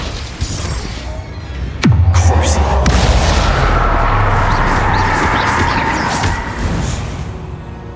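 In Hogwarts Legacy, the Confringo explosive spell lands with a sharp, booming crack, followed by a second hit and a lingering rumbling crackle beneath busy game ambience, with a voice speaking nearby.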